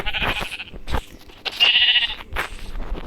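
Sheep in a survival video game bleat loudly and close by in several short, wavering calls, one after another, with no talk over them.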